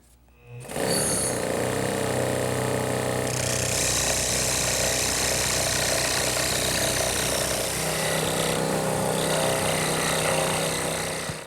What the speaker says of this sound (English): I'm going to use my scroll saw to cut the letter out.